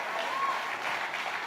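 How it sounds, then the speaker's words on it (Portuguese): Congregation applauding in a church service at Lagoinha Miami, a steady, even wash of clapping that stays level for the whole moment, with a faint voice heard briefly in the mix. "Você pode aplaudir Jesus?"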